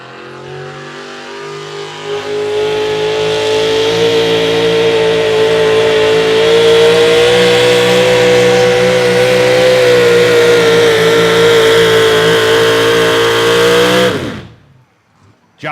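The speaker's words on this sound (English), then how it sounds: "Matt Driscoll built big block Chevrolet under that hood." A big block Chevrolet engine in a modified four-wheel-drive pickup pulling truck at an outlaw truck pull roars loud and close, revving hard in a long sustained pull for about twelve seconds before cutting off abruptly.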